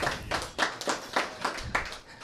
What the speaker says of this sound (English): So thank you to a big applause to our advertisers.